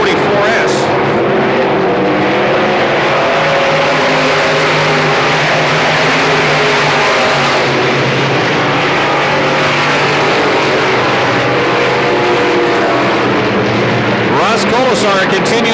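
Stock cars race around a short track at a 1994 regular show, their engines a dense, steady roar heard from the stands, with an announcer talking over the noise.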